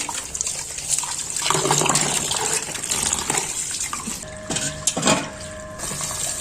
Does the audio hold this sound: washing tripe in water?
yes